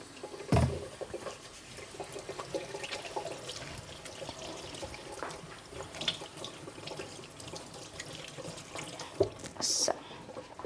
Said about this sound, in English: wash your hands with soap